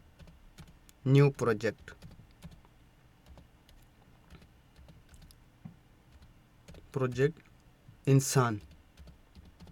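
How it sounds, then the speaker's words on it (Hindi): Laptop keyboard typing as a project name is entered: sparse, soft key clicks scattered through a quiet room, with someone speaking between them in short bursts. "जैसे कि मैं लिखता हूँ ऑडासिटी"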